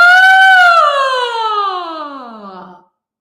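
A single voice imitates a siren as a vocal warm-up for jaw tension, a loud sustained tone that holds steady and then glides smoothly downward before stopping after about three seconds.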